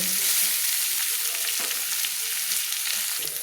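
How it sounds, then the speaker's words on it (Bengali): Sliced onions and potatoes fry in oil in a pan, a continuous close crackling sizzle with faint stirring scrapes, no voices. "পেঁয়াজগুলোকে আলুর সঙ্গে লাল লাল করে হালকা লাল লাল করে আমি ভেজে নেব"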